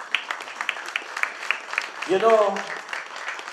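Scattered applause at a business awards ceremony, a thin patter of claps that rises and fades, with someone speaking through it.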